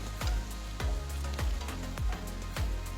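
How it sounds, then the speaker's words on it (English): Chopped onion and fresh red chilies sautéing in a hot kadai pan, with a steady sizzle and a rhythmic series of stirring scrapes roughly every half second, close and clear without any talk. "Saute for about a minute."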